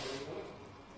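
Water poured into a pot of rice and beef in a home kitchen, a steady rushing pour that starts loud and tapers off slightly, heard alone up close.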